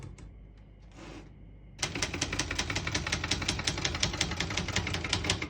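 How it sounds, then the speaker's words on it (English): Rapid, steady keystrokes on a 1966 Brother Webster XL-500 portable typewriter clacking in a brisk rhythm, close and crisp, after a short stretch of quieter mechanical hum and a brief whir. "all the keys type nice and none of them skip or stick"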